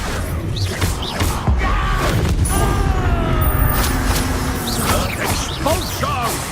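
Expulso exploding spells going off in a Hogwarts Legacy duel, a loud run of booms, crashes and whooshing magic blasts mixed with combat noise and shouted voices throughout.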